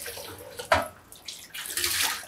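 Water runs from a kitchen tap into a pot to be boiled for bihun noodles. The flow comes in short, splashy bursts that swell and fade, close and moderately loud, with no speech.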